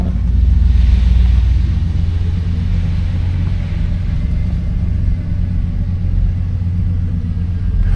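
A 1989 Cadillac Brougham on a test drive, its engine and road noise a steady low rumble heard from inside the cabin, continuous and even with no talking.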